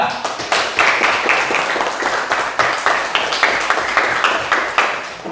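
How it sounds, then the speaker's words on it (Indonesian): A classroom of students gives a group a round of applause, dense and steady clapping from many hands, fairly close, lasting throughout without a break. "Oke, beri tepuk tangan untuk kelompok 3."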